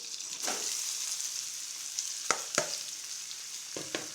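Chopped ridge gourd goes into a hot pan of frying onion and tomato, a soft steady sizzle punctuated by a few sharp spatula taps and scrapes, quiet and close, with no speech.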